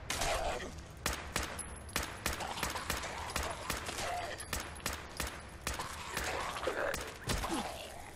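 Gunfire in the video game Fallout 4, with rapid bursts of sharp shots cracking out repeatedly over several seconds and brief pauses between volleys.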